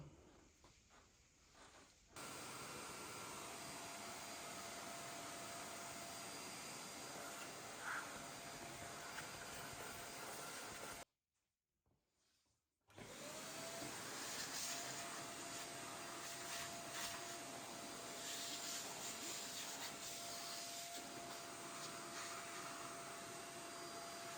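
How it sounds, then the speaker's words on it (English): A vacuum cleaner cleaning out a car engine bay runs with a loud, steady whooshing drone that cuts out for about two seconds midway, then starts up again and continues. "you're gonna come with the hoover."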